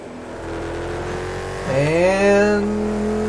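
A car engine in the GTA 5 video game drones at a steady pitch, then revs up sharply partway through, climbing loud and close before easing off slightly, with no voices.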